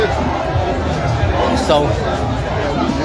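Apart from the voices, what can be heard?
crowd singing and shouting at President Weah's arrival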